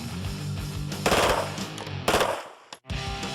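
A SIG MPX submachine gun firing unsuppressed in loud automatic bursts, with sharp rapid reports, a short gap and a final burst.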